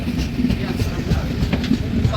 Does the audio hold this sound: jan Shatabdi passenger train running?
yes